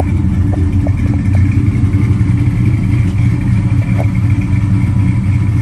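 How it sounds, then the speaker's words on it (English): A 1955 Chevy 210 set up for cruising idles with a loud, deep exhaust rumble, steady and close, with a light clattering texture over the low drone. "We'll listen to the exhaust a little bit."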